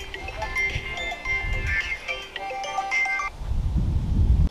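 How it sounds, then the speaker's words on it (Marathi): A mobile phone ringtone plays as a melodic tune for about three seconds, fairly close and clear, then cuts off and low rustling handling noise follows. "आला तिचा फोन लगेच."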